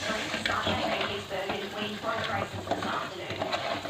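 Browned mushrooms frying in a pan while being stirred, with a steady sizzle under repeated scraping and clinking of a utensil against the pan, moderately close.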